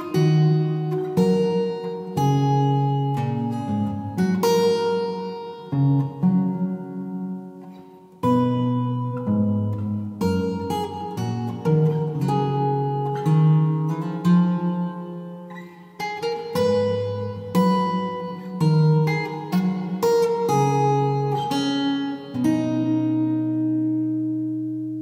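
A theme on fingerstyle guitar, a gentle melody of plucked notes and ringing chords played clearly and at moderate volume for about twenty-five seconds, with no talking.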